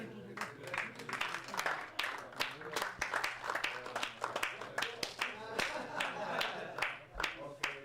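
Audience clapping at an international human motricity congress, a dense run of sharp claps from many hands over a steady low hum, with voices mixed in throughout.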